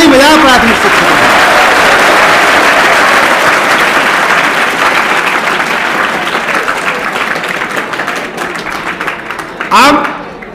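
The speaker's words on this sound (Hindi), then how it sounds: "एक बार ताली बजाओ प्राथमिक शिक्षकों को" An audience at a Hindi-language lecture claps for primary teachers: dense, sustained applause that slowly thins and fades, then a voice speaks briefly near the end.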